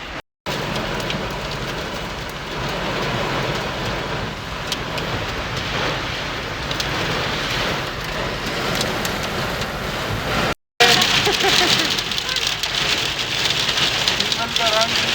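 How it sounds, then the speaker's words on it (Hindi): Steady, dense hiss of rain pattering on surfaces, continuous throughout, with a voice speaking over it at times. "ये हो रही है बारिश"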